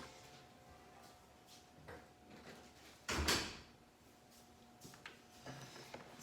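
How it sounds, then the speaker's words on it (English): A door is pushed shut in a quiet home room, giving one short, fairly loud thud that stands alone against a low background hum, with faint small knocks before and after. "I have to shut the door to make sure I can't hear them"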